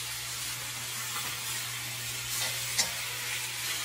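Chicken browning in hot oil with a bay leaf for turmeric coconut-milk adobo, a steady quiet sizzle and hiss with a faint constant hum beneath and one brief scrape of stirring partway through.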